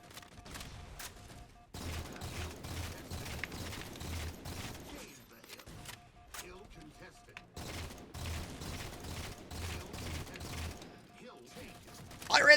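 Semi-automatic DMR rifle fire in a Halo 4 King of the Hill multiplayer match, arriving as repeated bursts of sharp shots in two clusters with brief pauses between.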